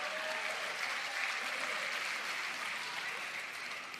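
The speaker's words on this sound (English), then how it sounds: "They've been cheering for it all day." A crowd at a championship pickleball match in Mesa, Arizona applauds and cheers in a steady, sustained roar heard from a distance, with faint voices mixed in.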